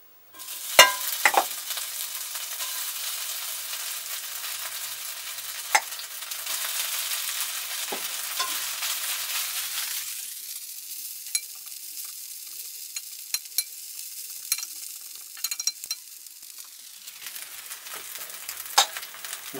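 Potato mixture for hash browns sizzles steadily in hot oil in a pan, a dense continuous frying hiss that dips in brightness partway through, with a few small pops and clicks, close and alone.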